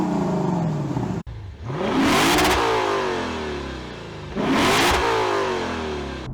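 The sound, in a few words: 2021 Lexus RC F engine revving on downshift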